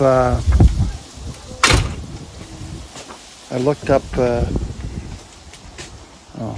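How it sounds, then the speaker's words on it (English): A door being opened indoors: a handle rattles and a louder creaking push comes through mid-clip, with someone talking before and after it. "I gotta open this door."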